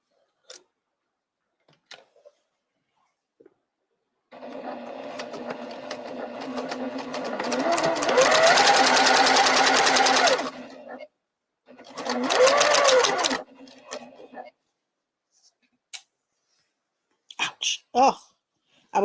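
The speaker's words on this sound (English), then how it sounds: "I need to get to sewing." A sewing machine stitches a quilt in two sustained runs, a long burst and then a shorter one, its steady motor hum close and loud, with a few faint clicks and handling sounds between.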